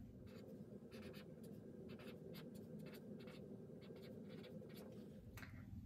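Pen or marker writing a word by hand on paper while drawing a painted lady butterfly diagram, giving a series of short scratchy strokes in bursts, close and clear over steady low background hum.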